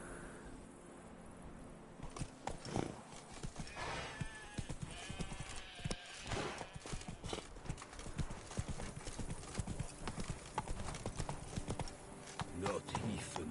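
Horse hooves clip-clop steadily in Witcher 3, with a brief neigh among the footfalls, while someone talks over the riding.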